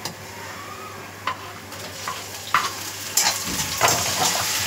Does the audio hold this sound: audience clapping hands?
no